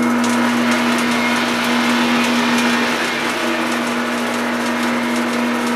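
A lathe spins a 5/16 copper tube held in its chuck at about 370 RPM. It makes a loud, steady motor whine with a strong constant hum and no pauses.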